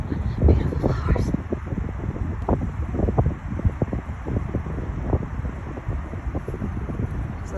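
Wind blows across the microphone at Al Capone's gravesite among the headstones, a steady gusty rumble with repeated buffeting thumps throughout.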